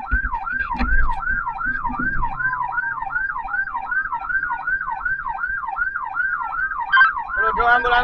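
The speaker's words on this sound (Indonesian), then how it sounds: "Ambulan PMI" A PMI ambulance siren at a road accident scene wails in a fast, regular up-and-down cycle, loud and close, continuing steadily with faint background noise and no talking.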